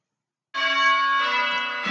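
A church bell rung in change ringing strikes after a brief silence, loud and near, its bright ringing tone sustained and humming, with the start of a second strike at the end.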